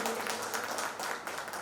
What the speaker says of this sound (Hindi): कृपया तालियों से इनका स्वागत कीजिए।